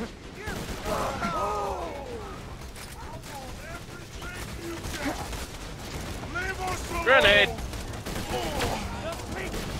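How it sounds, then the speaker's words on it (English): Grenade explosions and gunfire from the co-op video game Borderlands 2, with steady bursts of shooting and a louder blast partway through, heard beneath excited players talking throughout. "Oh, grenade!"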